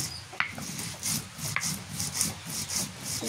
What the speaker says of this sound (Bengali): এই জন্য আমি শিলপাটাতে হাতে সব কিছু বেটে নিতেছি।